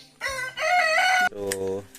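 Chickens on a poultry farm in Batangas, close by: a rooster crows loudly in two drawn-out bursts, followed by a shorter harmonic call and faint clucking.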